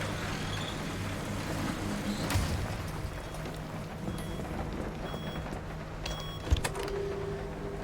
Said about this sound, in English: I'm gonna shut the garage door.